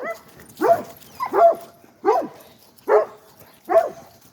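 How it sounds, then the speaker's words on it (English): A dog barks and yips in five short, evenly spaced bursts at close range, each a high whimpering bark with no talk around it. "Be nice. Don't bark."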